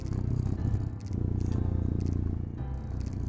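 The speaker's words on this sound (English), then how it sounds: "Holy crap, that is a powerful purr." A cat purrs close up, a steady low rumbling throb with rhythmic pulses that runs continuously, briefly dipping around the one-second mark, with a few faint rustles above it.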